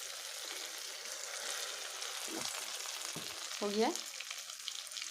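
Dahi vada batter drops into hot oil and fries with a continuous bright sizzle, a few short bursts of bubbling as pieces go in, and a brief spoken remark near the start.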